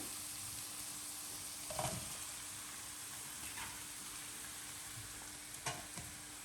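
Chillies, green beans and capsicum fry in a pan for Thai chicken curry, making a low, steady sizzle with a few soft stirring scrapes and clicks. The sound is faint and even throughout.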